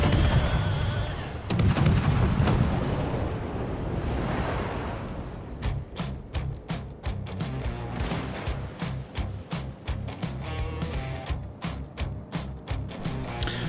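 Heavy naval guns from the Friesland destroyer in World of Warships fire in a rapid, steady rhythm of sharp booms after a rumbling opening, loud and close.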